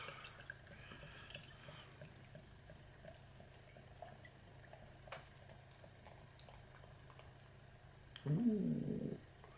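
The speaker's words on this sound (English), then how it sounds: "So let's get it poured." Timothy Taylor's Boltmaker beer is poured in a hotel room, giving a quiet, soft fizzing and trickling with a slightly louder burst near the end.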